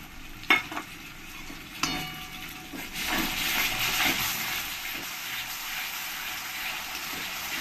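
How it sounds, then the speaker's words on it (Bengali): Onion paste hits fried onions in a hot pan for chicken do pyaza, with a couple of sharp clanks, then a loud swelling sizzle and steady scraping stir that settles into continuous frying. "এবার আমি এর মধ্যে দিয়ে দেবো পেঁয়াজ পেস্ট।"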